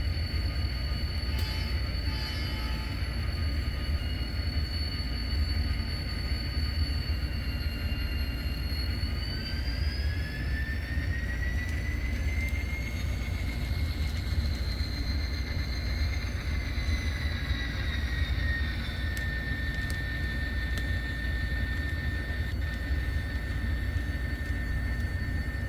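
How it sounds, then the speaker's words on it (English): An Illinois Central Gulf train at Granite City Steel reverses to pick up its caboose, a continuous heavy diesel rumble with droning, slowly shifting engine tones, steady and fairly close throughout. "the train will be going back in reverse to pick up the caboose"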